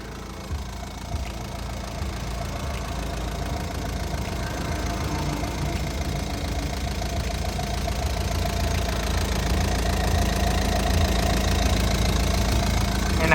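A Hitachi LX70-5 wheel loader's diesel engine runs at a steady idle close by, a continuous low rumble with a fine knocking rhythm that grows slightly louder over the span.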